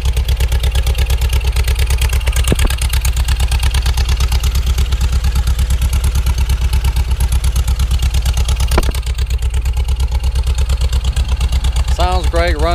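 A 1974 Volkswagen Thing Type 181 engine with an upgraded ignition runs at a steady, loud idle with an even mechanical clatter throughout, and a voice speaks over it near the end.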